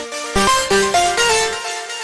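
A bright, gritty synth with saturation plays a quick sequence of stepped notes, each struck with a sharp attack and a slight decay.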